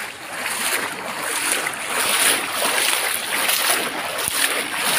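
Steady roaring rush of turbulent floodwater, loud and continuous, with broad hissing noise and occasional splashy surges.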